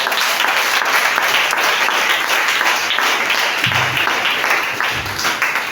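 A church congregation applauds loudly and steadily for several seconds, a dense wash of clapping filling the room.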